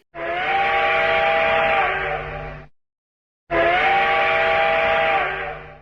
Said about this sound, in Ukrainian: Сигнал евакуації з міста звучить як гудок з потяга.